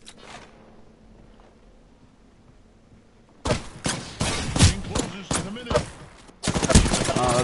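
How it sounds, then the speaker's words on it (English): Gunfire in Apex Legends: after a few quiet seconds, loud rapid bursts of automatic shots and sharp snaps crackle up close, with a short break before another heavy volley. "I'm getting shot. Taking enemy fire."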